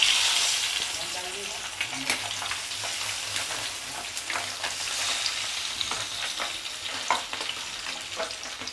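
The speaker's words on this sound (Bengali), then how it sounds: "এই তেলেই আমি এবার একে একে মাছগুলো দিয়ে ভেজে নেব।" Pabda fish fry in mustard oil in a pan, a continuous crackling sizzle with scattered sharp spits and pops, steady and fairly close, with no talking.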